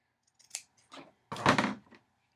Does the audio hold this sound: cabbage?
no